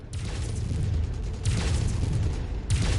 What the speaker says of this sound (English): the damage from the explosion is starting to add up